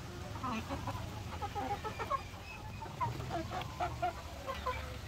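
Young farm chickens from a late-hatched batch, about five months old, cluck and chirp steadily in short overlapping calls over a low background hum, with a voice talking faintly nearby.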